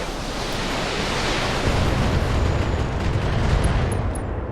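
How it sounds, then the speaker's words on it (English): Dense, roaring broadband noise with continuous heavy rumble, sustained video game weapons fire and explosions blending into a wash, loud and without speech. "Firing all weapons."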